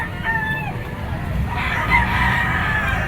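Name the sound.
chickens and roosters at a poultry market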